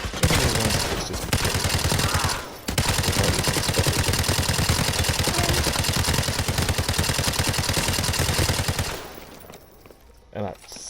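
A powerful machine gun in Call of Duty: Modern Warfare 2 Remastered fires long rapid bursts of evenly spaced shots, loud and close, with brief pauses before the firing stops and fades near the end.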